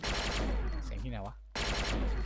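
Rapid gunfire from a weapon in the video game XSHOT, a loud, continuous burst that breaks off briefly and then resumes, with a short vocal sound in the gap.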